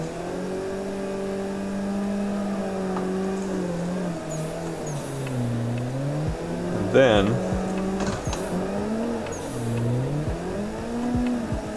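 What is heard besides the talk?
drifting car engine and tires in video game Assetto Corsa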